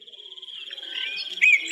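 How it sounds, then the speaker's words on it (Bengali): Crickets at dusk give a thin, continuous high trill that holds steady and swells slightly toward the end, close and fairly clear against an otherwise quiet background. "চারদিক ঝিঝি পোকার ডাক ছাড়া কিছুই শোনা যাচ্ছে না"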